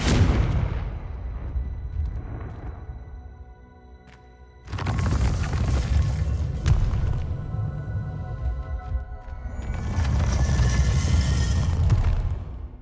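Confringo fire spell explosions in the video game Hogwarts Legacy: heavy booming blasts with rumbling, crackling tails that swell and fade in three loud waves, the last two sudden and dense.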